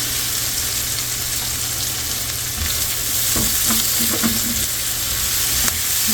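Vegetables fry and sizzle steadily in a hot pan for a Cajun chicken pasta, a constant close hiss with a few sharp crackles and soft stirring scrapes, and no talking.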